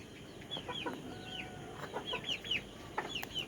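Black Tiger breed hen clucking softly in a farmyard, several short, fairly faint calls scattered over a low background hiss.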